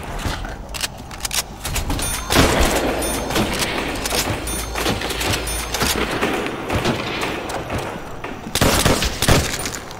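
M1 Garand rifle fire in Call of Duty: World at War Zombies, a series of loud, sharp game gunshots in quick bursts, with dense action and background noise between shots.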